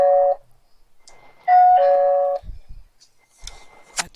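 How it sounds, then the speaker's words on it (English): An electronic doorbell chime rings out twice, loud and close, each a clear sustained tone, followed by quieter knocks, a faint voice and a short sharp sound at the end. "Got the doorbell going."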